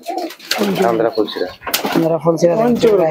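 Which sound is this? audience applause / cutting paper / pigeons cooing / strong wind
pigeons cooing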